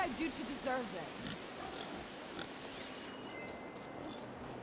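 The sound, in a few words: rain in the video game Horizon Forbidden West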